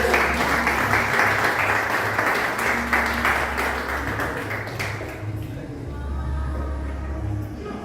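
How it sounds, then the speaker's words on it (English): Audience applause at a speech event at the UNIA hall in Kingston, Jamaica, a steady wash of clapping that fills the whole stretch and eases slightly toward the end, with some voices mixed in. "Give them a round of applause."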